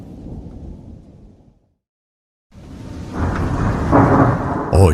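A heavy thunderstorm with rumbling thunder and steady rain, loud and close; a brief gap of silence then a swelling roar of rain and thunder with a sharp crack at the end.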